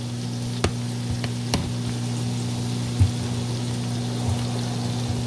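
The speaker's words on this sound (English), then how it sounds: "I do want the butter to melt, but I do not want any brown on this garlic." Minced garlic gently sizzling in melting butter in a pan: a steady, soft frying hiss with a few faint pops and clicks, no voices, under a constant low electrical hum.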